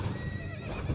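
A horse in the video game Elden Ring lets out a short, close neigh over a low rumbling game background, lasting under a second.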